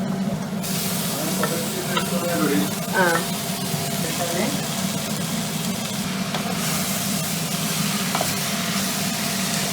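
Chopped onion fries in a pan while being stirred, a continuous close sizzle with scraping strokes of the spoon and voices speaking briefly over it.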